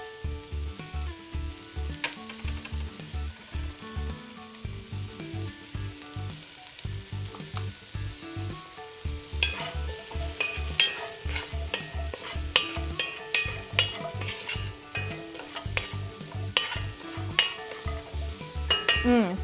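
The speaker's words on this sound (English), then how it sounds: "So while that's sauteing a little bit" Short ribs sautéing in a pan for beer-braised short ribs, a steady sizzle broken by scraping stirs and utensil clinks, with rhythmic background music throughout.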